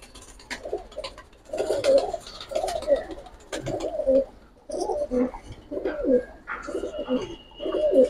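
Giribaz and military pigeons coo close by in a steady series of soft, throaty, rolling calls repeated about every second, with faint chirps in the background.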